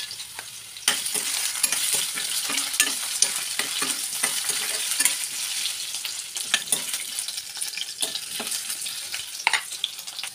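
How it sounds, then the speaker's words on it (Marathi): Potato pieces frying in hot oil with onion, garlic and curry leaves for a prawn curry, a continuous bright sizzle broken by frequent stirring clatter and scrapes, with no voices. "हा आपण तेलामध्ये फ्राय करायला टाकूया."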